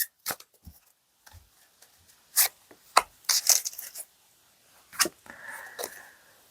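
A tarot card drawn from a deck: scattered soft swishes, brushes and small snaps of card handling, quiet and close, separated by silent gaps.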